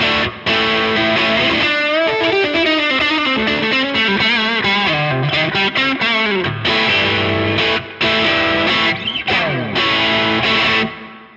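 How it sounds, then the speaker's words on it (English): Strat-style electric guitar run through a Blackstar HT20 Mark III on a medium crunchy overdrive, playing a busy continuous phrase of chords and single-note lines, loud and close with no talking. "So I've got like a medium kind of crunchy gain sound"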